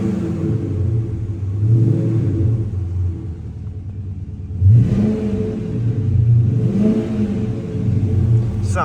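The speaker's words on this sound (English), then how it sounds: "Give it a couple revs here." A 2007 Dodge Magnum SRT-8 with a 6.1-liter Hemi is revved twice up close, each throttle blip swelling into a loud rising roar and settling back to a deep, rumbling idle.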